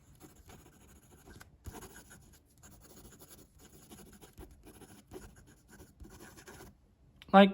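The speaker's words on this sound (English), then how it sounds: "Fast writing." A Jinhao 80 fountain pen is written quickly across paper, giving a soft, steady nib scratching that runs continuously up close. A brief louder rustle or knock comes at the very end.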